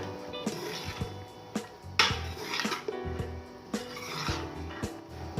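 Metal spoon scraping and clanking against a pot in several separate strokes, with the soft rattle of chickpeas being stirred, close by.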